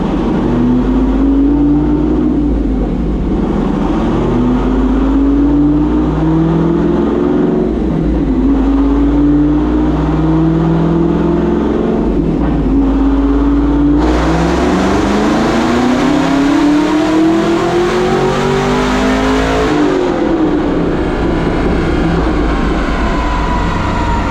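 Tuned Chevrolet Camaro ZL1 V8 on a full-throttle pull, loud and close, the engine note climbing steadily through the revs, dropping on shifts and climbing again before easing off near the end.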